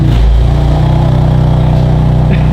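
A BMW M2C engine revving roughly in a steady low, throbbing drone, loud and close, with a rough, broken, tractor-like rumble throughout and no talking.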